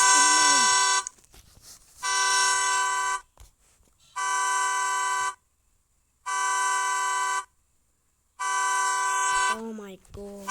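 A Hyundai Santa Fe hybrid panic alarm blares its horn in four long, loud, evenly spaced blasts separated by silences, with a person speaking briefly at the start and end.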